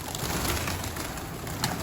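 Domestic pigeons, Mardin breed, cooing and bustling in a steady, dense layer of bird sound, close by and continuous, with no talk.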